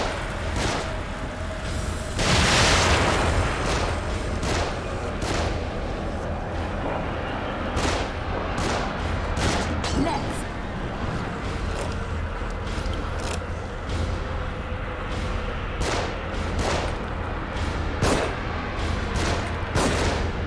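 Video game gunshots in The Evil Within: sharp bursts crack out at irregular intervals over a steady rumbling background, with one longer blast early on and scattered single shots after.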